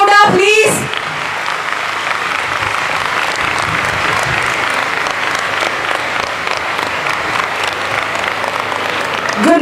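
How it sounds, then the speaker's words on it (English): Students fill a school hall with a long, steady round of applause for a visiting astronaut, dense and even throughout, after a brief voice at the very start. "requesting all the students to give a big round of applause"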